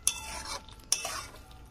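A spoon stirs a banana stem and poppy seed dish finished with ghee, two sharp scrapes against the pan, each trailing into a soft rustle, close and quiet.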